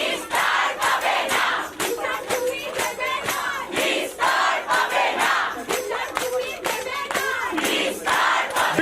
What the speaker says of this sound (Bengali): এই স্লোগানগুলো উঠছে